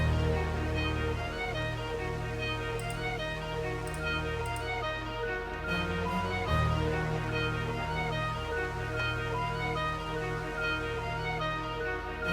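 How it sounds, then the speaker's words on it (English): Dark synth pad chords built in FL Studio for a 2000s crunk-style rap beat, sustained and dense with a deep low end. Layered tones shift once midway and play steadily throughout, with no talking. "so it's a dark pad, you know."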